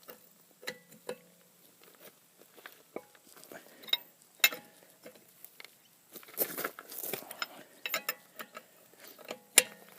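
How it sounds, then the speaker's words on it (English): A Lexus spare wheel's lug nuts are tightened by hand. The result is scattered faint metallic clicks and ratcheting ticks with quiet scraping, irregular and close by, growing busier toward the end. "so we're going this way to tighten them. Let me tighten them by hand equally."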